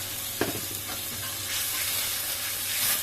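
Garlic and ginger paste dropped into a hot pan for a taro leaf and shrimp curry, a sharp sizzle at first then a steady hiss of frying with light stirring, close and clear.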